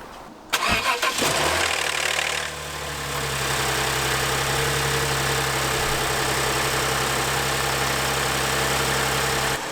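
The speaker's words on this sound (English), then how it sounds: "these engines are very ticky from the injectors. So let's see if this starts." A Lexus IS250 with the 4GR-FSE engine cranks briefly and fires, then settles into a steady, close, even idle that runs without pause to the end.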